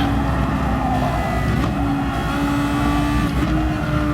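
A race car engine on track lifting off the throttle and downshifting, a loud, close, continuous drone with the pitch shifting as the revs drop between gears.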